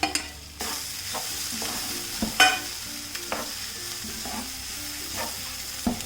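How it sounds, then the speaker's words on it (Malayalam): Chopped egg is stirred into a frying mixture in a pan for stuffed wheat paratha, a Kerala street food: a steady sizzle with repeated scraping, clinking strokes of a spoon through the mix, close and alone. "ഇനി നമുക്കിതിലേക്ക് ഈ കട്ട് ചെയ്ത് വെച്ചിരിക്കുന്ന മുട്ട ഇട്ടിട്ട് മിക്സ് ചെയ്ത് കൊടുക്കാം."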